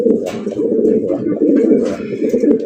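Fancy racer gola pigeons cooing at a breeding farm, soft throaty rolling coos repeating close by, with a few faint chirps and wing or cage rustles in the background.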